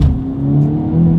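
A 2024 Acura Integra Type-S with a manual gearbox accelerating hard from a launch, a loud, close engine note rising steadily in pitch.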